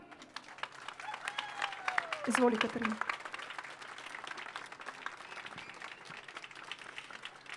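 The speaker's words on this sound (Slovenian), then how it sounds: "Zaploskajmo jim." An outdoor crowd at a pro-life march in Ljubljana claps steadily throughout, the applause swelling briefly before settling, while a voice speaks over it.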